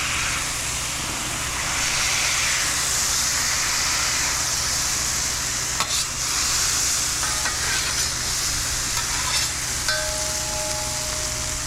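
Smashed burger patties and onions sizzle on a hot griddle with a loud, even hiss throughout, broken by a few light metallic clinks and scrapes.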